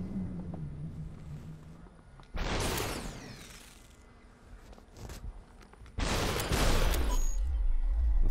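Gunfire in the VR game Superhot VR, two sharp loud bursts with ringing decays standing out against quiet play, with faint voices in between.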